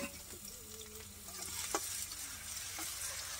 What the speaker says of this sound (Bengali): এবার তেল গরম হয়ে গেছে, দিলাম পেঁয়াজ বেশি করে।